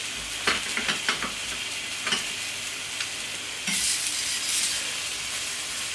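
A sage and chorizo jus reduces in a hot pan, a constant close sizzle with several sharp stirring scrapes early on and a louder burst of bubbling hiss in the second half.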